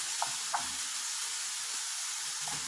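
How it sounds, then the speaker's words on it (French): Mushrooms sizzling as they grill in a pan: a steady, bright hiss of frying that holds level throughout, with a couple of faint clicks of a utensil and no talking. "On continue de griller. Les champignons, Inch'Allah."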